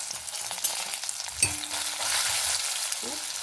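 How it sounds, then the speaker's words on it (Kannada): Urad dal, chana dal and pepper fry in a spoonful of hot oil, giving a steady bright sizzle with occasional utensil clinks and a short scraping stir. "ಒಂದು ಚಮಚ ಎಣ್ಣೆ ಹಾಕೊಂಬ, 1 ಟೀ ಸ್ಪೂನ್ ಉದ್ದಿನಬೇಳೆ, 1 ಟೀ ಸ್ಪೂನ್ ಕಡಲೆಬೇಳೆ, ಮೆಣಸು"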